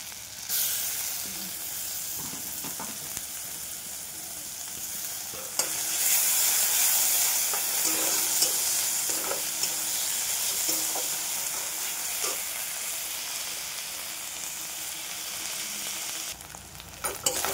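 Ginger-garlic paste fries with onions in a pan, giving a loud, continuous hissing sizzle with occasional faint stirring knocks. The sizzle swells midway and then briefly drops away near the end.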